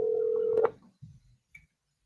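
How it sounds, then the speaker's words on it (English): A telephone tone holds steadily, then cuts off, followed by a few faint scattered clicks and a brief high blip in near silence. "Do y'all hear that phone ringing?"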